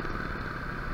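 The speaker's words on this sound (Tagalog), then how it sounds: "Ang ganda ng pakiramdam ng makina, repapips. Pinong-pino yung andar." A Honda NS200 motorcycle engine idles steadily and smoothly on fresh 20W50 oil, a close, continuous mid-pitched hum with light mechanical clatter and no voices.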